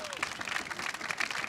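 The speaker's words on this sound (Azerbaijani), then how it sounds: "çox gözəl bir alqışlar gəlsin Dubaya" A studio audience on a car-themed TV show claps in brief, scattered applause for a phone caller from Dubai, faint and thin, with a host's voice over it.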